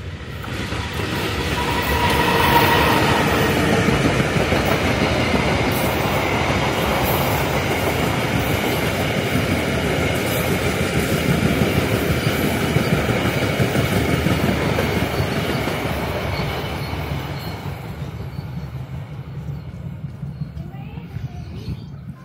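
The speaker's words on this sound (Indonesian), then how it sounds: "Ada kereta lewat, coba kita lihat." A train rumbles past close by, a loud continuous roar with rattling wheel clatter that fades toward the end.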